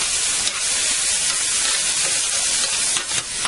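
Minced onion and garlic fry in a pan while stuffed peppers with couscous and chicken are prepared, a loud, steady, close sizzle with no talking.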